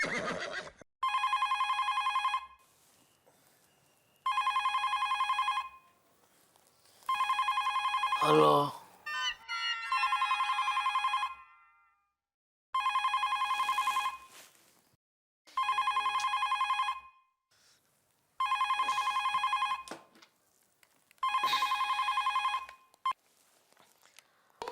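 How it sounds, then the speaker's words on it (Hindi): A landline telephone rings eight times in regular, evenly spaced electronic bursts, loud and close, with brief rustles between rings and a voice answering at the very end. "लैंडलाइन पे तो उठाना फोन"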